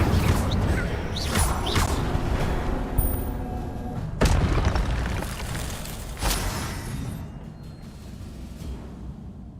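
An Incendio fire spell cast in Hogwarts Legacy brings whooshing bursts and sharp booming cracks over steady game ambience, with two distinct blasts standing out.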